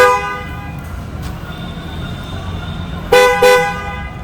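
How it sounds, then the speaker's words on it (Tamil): A Maruti Suzuki Alto car horn gives two short, loud honks close by near the end, after a stretch of steady tonal background noise. "ஹார்ன் மறந்துட்டேன், அடித்து காமிச்சிட்டுங்களா?"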